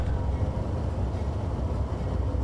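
An Amtrak P42 locomotive in Train Simulator 2017 slows down, giving a continuous low, heavy rumble with a faint mechanical hum that stays fairly even and close.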